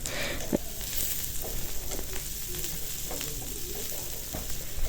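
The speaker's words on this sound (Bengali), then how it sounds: "পেঁয়াজটা দিয়ে এইভাবে পেঁয়াজটা ভেজে নেব ব্রাউন কালার করে।" Onions frying in oil in a pan while goat liver curry is cooked, a steady close sizzle with occasional stirring clicks and scrapes, no voices.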